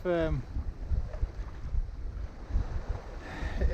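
A Bavaria 41 sailboat beats upwind on the North Sea, with wind buffeting the microphone and water rushing and slapping against the hull close by, plus a brief voice-like tone at the start.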